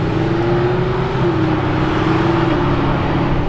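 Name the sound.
Lamborghini Urus driving past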